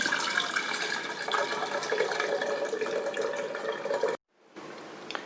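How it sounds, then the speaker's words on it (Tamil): Boiled beetroot liquid pours steadily through a strainer into a bowl, a close continuous splashing trickle that stops abruptly, then resumes softly. "இதை இப்போ ஒரு பவுலில் வடிகட்டி எடுத்துக்கலாம்."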